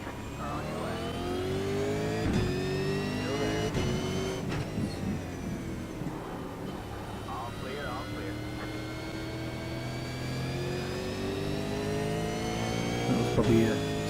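A V8 race car circuits Phillip Island in a sustained, steady engine drone with shifting pitch as it holds a line through traffic, loud and continuous for the whole stretch.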